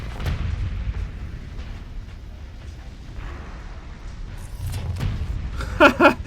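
Mines and torpedoes exploding in the space combat game Starsector, deep rumbling booms rolling in the low end, with a burst of sharp crackling detonations near the end.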